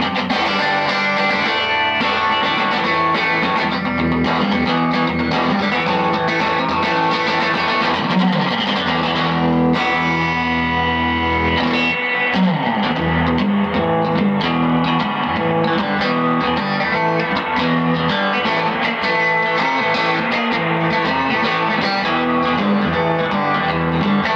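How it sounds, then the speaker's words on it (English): Overdriven guitar played through a vintage Rickenbacker TR14 amplifier turned up to volume 10, loud sustained chords and riffs with a gritty, saturated tone, continuous and close, no talking. "Now if we take the volume up to 10, it's going to give you that really great, overdriven"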